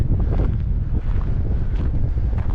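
Wind buffets the microphone in Mount Pleasant Cemetery in Erie, Colorado, a loud continuous low rumble with no voices.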